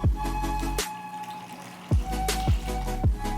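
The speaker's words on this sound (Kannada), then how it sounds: "ಜಾರ್ಗೆ ಸ್ವಲ್ಪ ನೀರು ಹಾಕೊಂಡಿದ್ದೀನಿ." Water poured into a mixer-grinder jar while making neer dosa batter: a close, splashing stream broken by a few distinct glugs and drips, with no voices.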